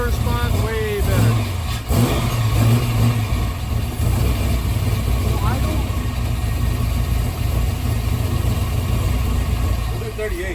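A Ford Mustang Foxbody with a 5.0 302 V8 running near and loud, with a rough idle and short throttle blips under people talking.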